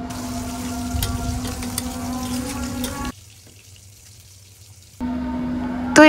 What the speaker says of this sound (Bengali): এই পর্যায়ে আমি দিয়ে দিব পানি।